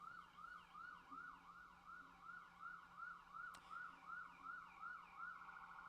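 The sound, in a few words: siren sound effect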